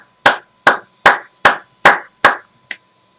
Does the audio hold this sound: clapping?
yes